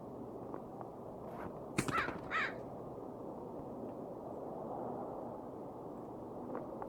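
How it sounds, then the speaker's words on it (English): Crow in the Dead Secret game giving a couple of short, fairly distant caws against a steady outdoor ambient hiss, with a faint crack just before them. "Crow went this way."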